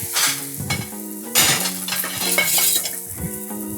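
An omelette cooks in a hot pan during spring roll preparation, giving a busy sizzle with utensil scraping and stirring clatter in the foreground.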